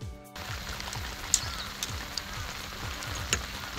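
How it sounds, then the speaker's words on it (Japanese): Steady rain falls on the embanked Inba Shinkawa riverside during a fishing session, a soft continuous patter with a few closer drops tapping now and then. "いやでも雨止んでほしいですね。"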